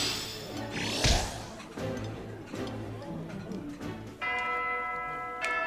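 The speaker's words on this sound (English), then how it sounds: "Here's the bell, so let's end the week." A bell chimes in the video game Fire Emblem: Three Houses, its bright sustained ringing tone entering near the end over a busy bed of game sounds and music.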